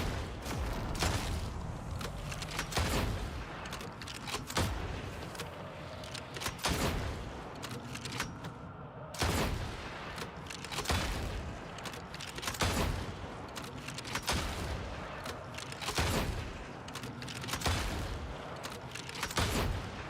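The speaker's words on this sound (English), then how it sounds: "It's just better to shoot both barrels." A double-barrel shotgun fires again and again in a video game: loud, booming blasts about every one to two seconds, with mechanical reload clatter between shots.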